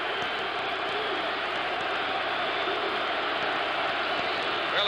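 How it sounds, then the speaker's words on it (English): A stadium crowd roaring at a 1977 Texas A&M versus Michigan college football game, a steady, dense wash of distant voices that stays loud throughout with no breaks. "Well, the crowd's roaring"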